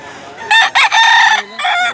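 Gamecock rooster, a blue-legged bullstag, crowing once up close, a loud, sharp, broken cock-a-doodle-doo.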